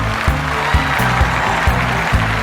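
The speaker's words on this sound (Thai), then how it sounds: "ขอเสียงปรบมือดัง ๆ ให้กับความมั่นใจของเชอร์รี่พายครับผม" A studio audience at a Thai television game show claps for contestant Cherry Pie, loud and close, with a steady rhythmic clapping pattern that pulses in regular beats throughout.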